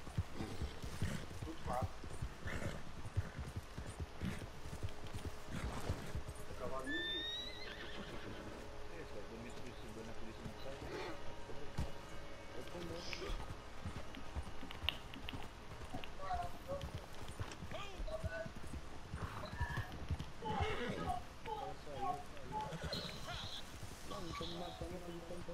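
Horses whinny and hooves clip-clop repeatedly in Red Dead Redemption 2 Online, over rustling and game background sounds, with a voice speaking intermittently.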